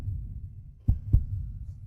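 Two deep, thudding heartbeats in a drama, a close double lub-dub pulse against a low background hum, with no talk.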